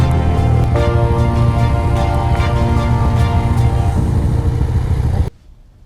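A Yamaha FZ09 (MT09) motorcycle riding along, a loud steady engine drone with wind rush up close that cuts off abruptly near the end.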